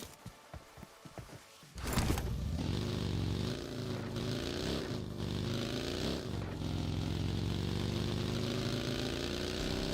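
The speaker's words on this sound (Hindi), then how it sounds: "मैं तुरंत गया बग्घी लेने के लिए।" Engine of a buggy driven in the BGMI (Battlegrounds Mobile India) mobile game roars up after a few brief footsteps-like taps, then holds a loud, steady droning rev with slight pitch wobbles as it drives.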